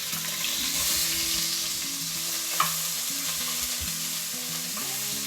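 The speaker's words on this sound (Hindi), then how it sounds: "जिंजर को थोड़ी देर भून लेंगे" Chopped ginger with cumin and cashews fries in a pan for a Punjabi aloo samosa filling, a steady close sizzle with soft stirring scrapes, no voices.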